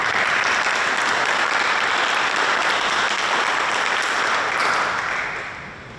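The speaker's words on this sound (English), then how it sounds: "Round of applause." Loud, dense applause from a crowd at a Shinnecock Heritage Day community event, sustained steadily before tapering off at the end.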